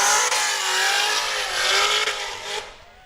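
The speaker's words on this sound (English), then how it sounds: "how you wanted a burnout at the starting line" A 2015 Chevy Corvette doing a burnout at a starting line on an open-road race: a loud, sustained roaring engine with screeching tire squeal that rises and holds for about three seconds, close and unbroken by talk.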